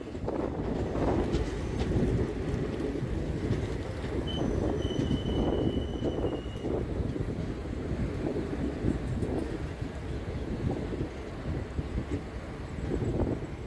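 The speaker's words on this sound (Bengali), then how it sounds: "পুরো ডান দিকে বাঁক নিয়ে ট্রেন ঢুকছে রামপুরহাটের দিকে" Mayurakshi Express train rolls steadily as it curves right into Rampurhat junction, a continuous rumble of wheels and carriages with wind buffeting the microphone and a faint high squeal partway through.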